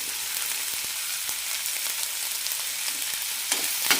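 Onions sautéing in oil with dried red chilies and curry leaves for onion chutney, a steady close hiss of frying with faint occasional ticks of stirring.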